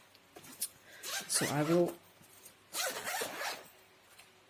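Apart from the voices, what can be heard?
unzipping a pencil case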